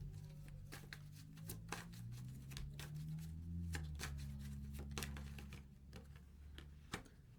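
Tarot cards are shuffled nearby in quiet bursts of riffling and soft clicks, with a few sharper taps, over a faint steady music bed.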